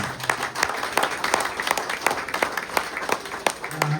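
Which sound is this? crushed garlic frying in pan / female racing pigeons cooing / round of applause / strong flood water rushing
round of applause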